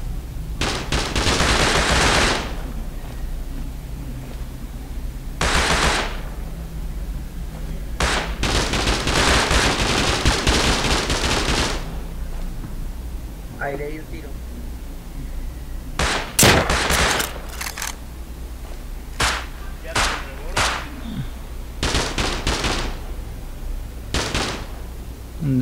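Bolt-action rifle gunfire in the video game Rust, heard as repeated loud, sharp shots and clustered bursts spread across the clip with brief gaps of quiet between them.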